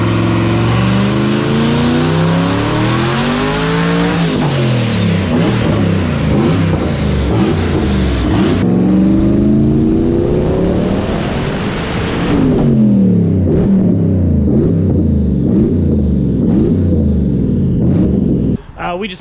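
A Klaus car's engine revs hard on a dyno during a full pull after its fuel system was cleaned, rising loud and close with repeated climbs and falls in pitch, while people talk over it.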